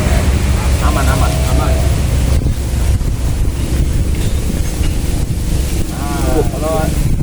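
Strong wind buffets a microphone outdoors, a continuous loud roar and rumble while voices talk over it intermittently.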